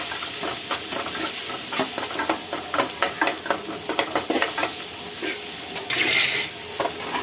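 Green chillies and chopped shallots sauté in a hot pan for coconut rice, a steady close sizzle broken by repeated scraping stirs of a spoon against the pan, with a brief louder hiss near the end.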